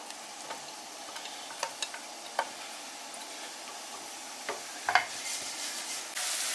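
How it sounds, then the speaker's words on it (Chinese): Scallion and ginger slices dropped into hot oil in a wok, giving scattered sharp crackles and pops over a low hiss, then a louder sizzle building toward the end, close by with no voices. "油热，我们放入葱和姜片。"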